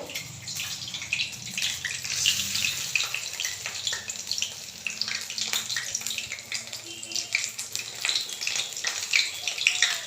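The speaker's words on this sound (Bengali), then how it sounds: "এইভাবে আমি প্রত্যেকটাই ভেজে নেব" Pumpkin-leaf rolls fry in oil with a steady, close hiss and crackle, a dense continuous bubbling that pulses slightly throughout.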